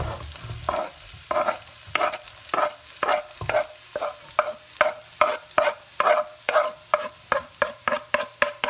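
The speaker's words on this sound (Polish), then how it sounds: "Mam sobie tutaj wcześniej wspomnianą już e, cząstkę masła i dodaję cebulę razem z cząstką." Onion frying in butter in a pan crackles under a steady sizzle, with a regular run of rhythmic stirring strokes scraping the pan, close and fairly loud.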